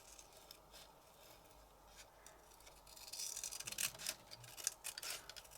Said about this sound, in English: So let's cut that all the way around.